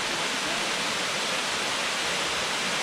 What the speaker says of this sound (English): And the water gushing down into this stream.